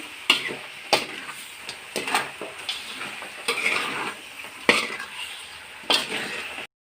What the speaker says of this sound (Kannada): ಎಲ್ಲವನ್ನು ಚೆನ್ನಾಗಿ ಮಿಕ್ಸ್ ಮಾಡ್ಕೋಬೇಕು.